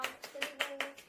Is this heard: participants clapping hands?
yes